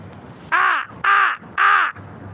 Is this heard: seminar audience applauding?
no